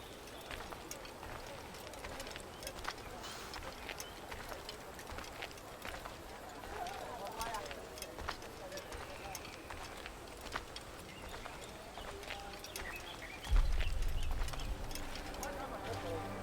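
Horse hoofbeats in the Assassin's Creed video game, a steady galloping clip-clop running throughout at moderate level, with a louder low burst near the end.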